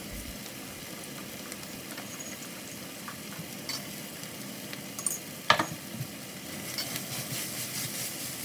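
Chopped onion, carrot and bell pepper fry in a pan with a soft, continuous sizzle, broken by occasional scrapes and knocks of stirring, a little louder toward the end.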